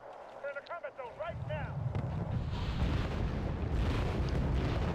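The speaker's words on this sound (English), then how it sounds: "I call for a second rocket launcher." A rocket launcher barrage in the strategy game Wargame: Red Dragon, rising into a dense, rumbling wall of explosions and rushing noise that swells and holds loudly, starting after a brief stretch with game voice tones.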